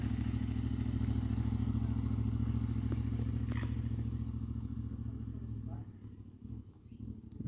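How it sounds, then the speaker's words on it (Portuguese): An old foreign motorcycle travels along the BR-319 highway, its low engine throb rumbling steadily before fading away as it moves off, leaving a quieter scene with a few faint knocks. "Moto das antigas."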